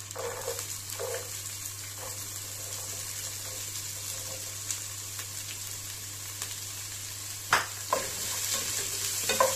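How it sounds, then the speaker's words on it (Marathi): Finely chopped onion being sautéed in oil with mustard seeds for kande poha, a steady close sizzle with occasional scrapes and clinks of stirring, over a low constant hum, without talk. "कांदा मस्त असा परतून घेणार आहोत।"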